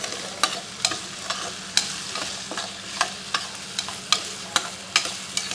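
Potato and chopped green chilies frying in a pan for sabudana khichdi, with a steady low sizzle broken by regular sharp scrapes of a spatula stirring, close and alone with no talk.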